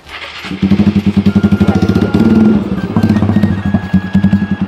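A motorcycle engine idles and revs nearby, loud and steady, with a rapid rhythmic thumping pulse that swells and eases over several seconds, heard alone without voices.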